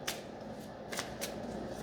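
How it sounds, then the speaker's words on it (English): A deck of tarot cards is shuffled up close, giving soft papery riffles and a few crisp snaps in quick bursts against a quiet room. "I started shuffling and this just fell out of the center of the deck without me opening it up."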